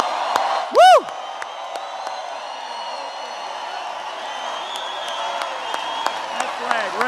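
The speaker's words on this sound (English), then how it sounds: "How about a big round of applause for our military?" A large outdoor crowd at a political rally in Loveland, Colorado roars steadily at a distance, with scattered clapping, cheers and one sharp near whoop rising above the sustained noise.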